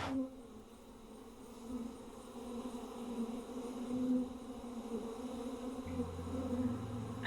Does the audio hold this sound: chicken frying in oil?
no